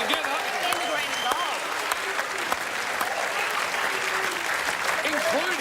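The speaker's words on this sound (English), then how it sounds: "Put your hands together." A studio crowd at a televised Australian football show claps and cheers continuously and loudly in a dense burst of applause, with some voices mixed in.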